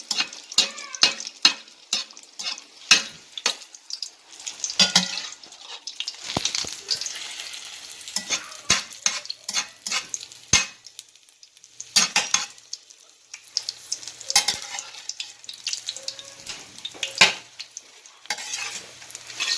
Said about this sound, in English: you can get your spatula and help the egg to get fully cooked